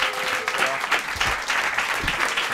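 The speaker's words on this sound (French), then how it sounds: "Applaudissements une dernière fois pour Andrea." A TV show audience claps for a departing contestant, a dense, even round of applause with a few louder claps and faint voices mixed in.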